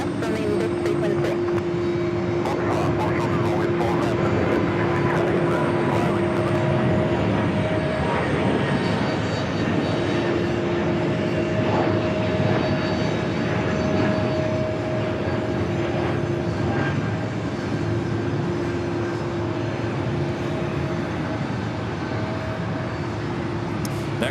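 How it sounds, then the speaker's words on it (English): A JetBlue Airbus A220-300 jet rumbles at JFK airport with a continuous engine roar and steady whining tones, as faint voices mix in at times. "Swing back to 4 left, another JetBlue Airbus A220-300"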